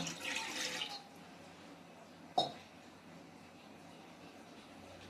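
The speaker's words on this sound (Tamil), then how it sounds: "ஒரு டம்ளர் தண்ணி ஊற்றிக்கோங்க." Soft running water splashes for about a second as a tumbler of water is poured into a grinder, then a single sharp clunk follows, with quiet room hiss after it.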